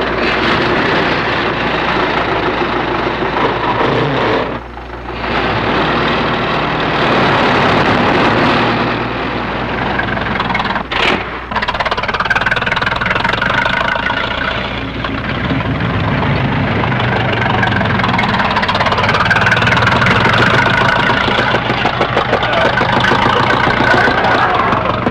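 Early motor racing cars, including a Fiat and a new Renault, roar loudly and continuously at the start of a race, with a brief dip in the engine sound partway through.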